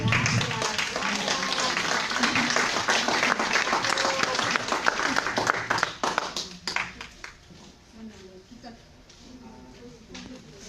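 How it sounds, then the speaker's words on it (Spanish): An audience claps loudly and steadily at a talk on pensions, the applause gradually thinning out and fading into a few scattered claps and murmurs. "vamos a darle un aplauso a Pedro Villegas"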